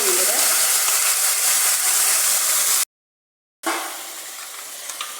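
Coconut paste and turmeric being stirred into a moru curry make a close, hissy scraping and sloshing, which stops briefly and then starts again.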